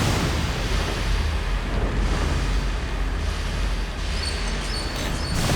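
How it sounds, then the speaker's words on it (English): Turning a wheel in the fantasy game Pillars of Eternity releases a gust of steam, heard as a loud, continuous, rushing roar of broadband hiss that barely changes across the few seconds. "You turn the wheel and a gust of steam blasts you in the face"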